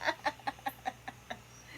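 Farm chickens cluck in a quick series of about seven short, evenly spaced calls, close but quiet against a faint background.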